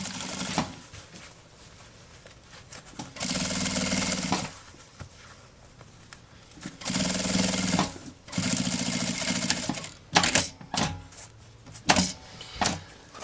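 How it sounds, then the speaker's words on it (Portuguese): A sewing machine stitching a seam on a travel toiletry bag runs in several short bursts of fast, close needle chatter separated by quiet pauses and small handling noises. "passa uma costura com um pé de máquina aqui, essa costura"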